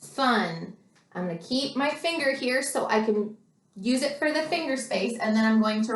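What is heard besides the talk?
No everyday noises stand out.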